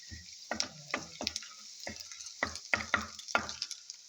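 Sliced eggplant and garlic fry in hot oil in short bursts of crackling sizzle, with a few distinct sharp pops, close by and moderately loud.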